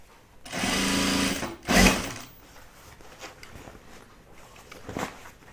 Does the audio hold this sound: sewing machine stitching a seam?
yes